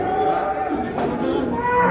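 An HF cow lows with a long, deep moo at a busy cattle market in Baramati, close and clear over a murmur of crowd noise in the background.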